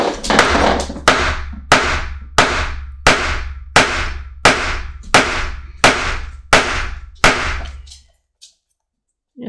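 Repeated hammer blows knock a piece of leather flat while shaping a leather jack mug, the historic drinking vessel: about a dozen loud, sharp, evenly spaced strikes close by, each ringing briefly before the next, then silence.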